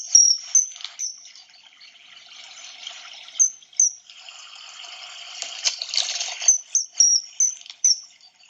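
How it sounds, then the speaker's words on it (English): Repeated high-pitched, thin whistling calls of a kingfisher ring out in short bursts, fairly close and clear, with a soft watery trickle running beneath them between calls. "Oh, it's a very high-pitched, pretty sound on a kingfisher"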